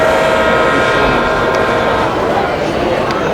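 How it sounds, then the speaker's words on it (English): Bachmann HO-scale model locomotive sounding its replicated diesel horn through the sound function, a steady sustained multi-tone blare with broad noisy hiss beneath, recorded at a busy train show amid crowd chatter. "you have a different design horn to replicate the actual horns that are on these locomotives, and I'll play the sound function for that"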